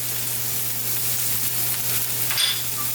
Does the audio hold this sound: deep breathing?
no